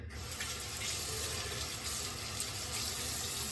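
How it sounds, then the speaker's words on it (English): Tap water runs steadily and close, rinsing a Gillette King razor after a shave, a continuous splashing flow into a sink with no talk. "let's wash this off"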